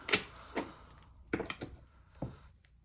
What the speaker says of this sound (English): I need to shuffle some more.